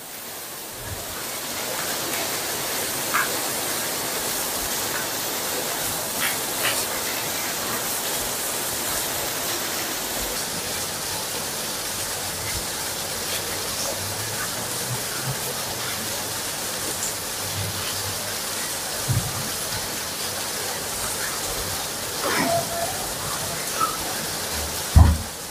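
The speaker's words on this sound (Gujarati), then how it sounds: "ફૂલ વરસાદ ચાલુ છે અત્યારે, જોઈ શકો છો।" Heavy rain falls in a steady, broadband hiss during a thunderstorm, continuous and fairly near throughout with a few sharp drips or thuds and no talk.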